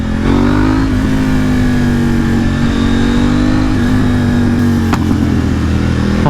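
A motorcycle accelerates hard through the gears, its loud, close engine note climbing steadily, then snapping off into a sharp exhaust pop near the end.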